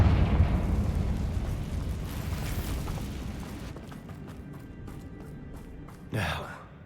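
Confringo blasting spell in the Hogwarts Legacy video game erupts in a loud, rumbling explosion that fades over several seconds, followed by a short whooshing burst near the end.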